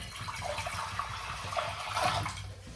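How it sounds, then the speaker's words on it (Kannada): Water is poured into a large cooking pot on a gas stove for tomato chutney, a steady soft splashing stream that swells slightly toward the end, fairly faint with no talking. "ನೀರನ್ನು ಹಾಕಿ,"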